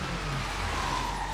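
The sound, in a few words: car driving in video game Sleeping Dogs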